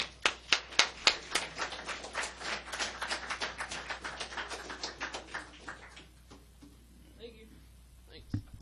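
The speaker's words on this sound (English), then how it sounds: "can I have a round of applause?" Audience applause at a hacker conference talk: a few loud, sharp claps open, then thinner scattered clapping from the room that fades out after about six seconds, followed by a quiet pause.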